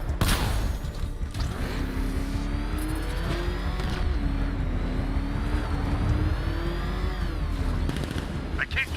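Cars racing in Batman Arkham Knight, engines revving and whining continuously at high volume with shifting pitch, scattered crashes and bangs around them, no talk audible.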